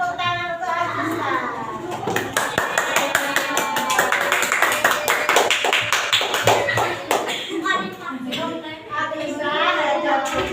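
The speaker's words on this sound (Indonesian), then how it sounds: "Ayo beri tepuk tangan untuk Agusta." A classroom audience claps for a student presenter during a lesson, with quick rhythmic taps running steadily throughout. The clapping sits under continuous talking, with voices louder than the hands.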